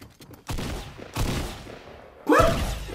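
Gunfire in Fortnite rings out as three separate loud, close shots spaced about a second apart, each with a short fading tail, and a voice briefly cuts in over the final shot.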